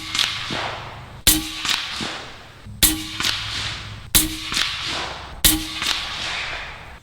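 The Bintac MCAR 457 big-bore sniper rifle fires four sharp, loud shots at steady intervals of just over a second, each crack followed by a short echoing tail.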